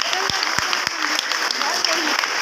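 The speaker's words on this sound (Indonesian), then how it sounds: "Tepuk tangan dulu." Students at a school orientation opening clap in a short burst, a few sharp claps standing out over a steady mass of hands in a hall.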